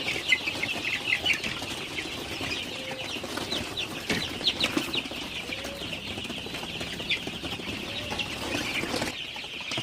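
A flock of Sonali super hybrid chicks peeping and chirping steadily in a poultry shed, with a constant high chatter of many birds at close range and a few faint lower clucks.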